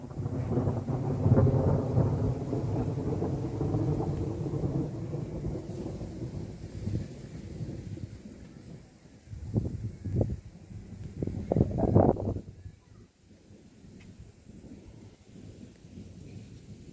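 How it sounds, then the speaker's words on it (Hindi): Thunder rumbles loudly and long under a dark sky with rain falling, the first roll fading after several seconds, followed by a few sharper, closer cracks and then quieter steady rain. "तो सुन सकते हैं आप लोग कितनी तेजी से बादल गरज रहे हैं और बूंदें से आ ही रही हैं।"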